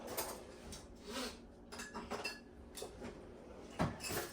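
Small metal clinks and taps of measuring spoons scooping cinnamon, salt and baking powder, scattered light clicks at close range with a sharper knock near the end, no talking.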